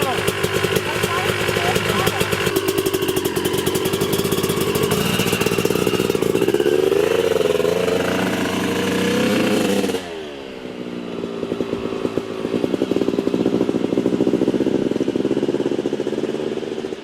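Yamaha YZ250 two-stroke dirt bike engine being broken in after a rebuild, held under half throttle: loud, continuous raspy buzzing with rising and falling revs, dropping to a lower, burbling idle partway through.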